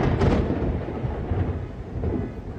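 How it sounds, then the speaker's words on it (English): A loud, close thunder rumble rolls through a storm in Chicago, heaviest at the start and tailing off over rain, with no talking. "I don't know what is up with the storms lately in Chicago,"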